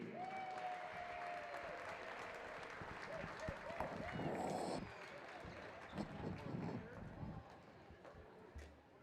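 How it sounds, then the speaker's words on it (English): A crowd in a gym at a high school wrestling meet gives a round of applause, sounding distant and fairly faint, swelling briefly then thinning out toward the end. "how about another round of applause"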